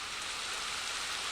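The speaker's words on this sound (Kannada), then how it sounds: "ಮೈನ್ ಕ್ರಾಫ್ಟಲ್ಲಿ ಮೊದಲನೇ ಮಳೆ ಅಲ್ವಾ ಇದು" Rain falls in the video game Minecraft, a steady, soft, even hiss of drops with no pauses, faint and alone.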